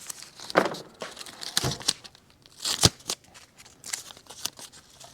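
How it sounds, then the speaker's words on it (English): Tape being torn and pressed over an electrical connection during work on a Suzuki GT380 motorcycle, heard as a series of sharp ripping and crinkling bursts, fairly close, with quiet gaps between them. "I've got my, just want to make sure that I'm going to put a little tape over my connection there a little bit"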